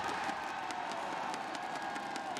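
A large esports tournament crowd at a Valorant match cheers and applauds steadily, a broad, fairly faint roar of voices with scattered clapping throughout.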